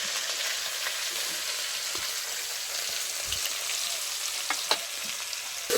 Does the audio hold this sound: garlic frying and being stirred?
yes